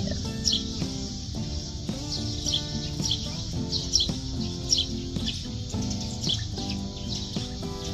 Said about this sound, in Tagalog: Daming ibon, no?